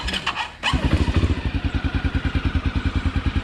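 A Quadzilla 500cc two-stroke quad engine cranks briefly, catches and settles into a loud, steady, rapid idle close by.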